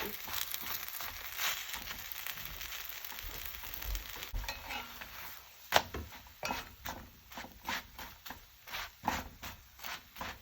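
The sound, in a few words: scallion pancake frying in a pan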